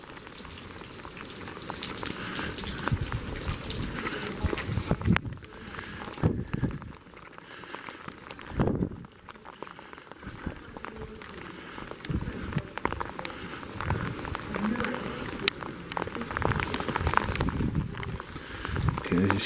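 Rain falls steadily outdoors around an abandoned school in Llanmorlais, South Wales, a continuous hissing patter that swells and dips slightly over about twenty seconds.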